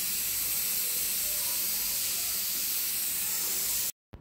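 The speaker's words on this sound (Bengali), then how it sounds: "এবার আমি তেলটা দিয়ে দেবো।" Oil poured into a hot kadai that already holds a little water, giving a loud, steady hiss and sizzle that carries on without pause and then cuts off abruptly.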